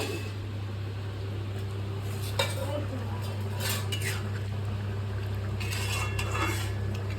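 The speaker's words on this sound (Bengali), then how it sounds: "ঢাকাটা খুলে দেখি কতটা কি হলো" A lid is lifted off a pot of fresh river fish curry simmering in a village kitchen, giving a single short metallic clink over steady low cooking hum and background noise.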